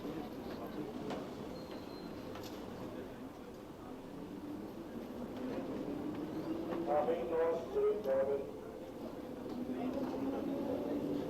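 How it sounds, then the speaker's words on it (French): A train rumbles and screeches through an echoing underground station in Munich, metallic squeals rising midway over a low, steady background of station noise. "Dans cette gare souterraine, il y a un continuel va-et-vient de trains sur 8 lignes différentes."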